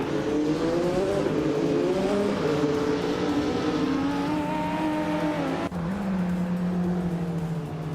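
Race cars in a video game race roar continuously at close range, engines holding high revs with shifting pitch as cars jostle for position, with a brief dip and gear change near the end.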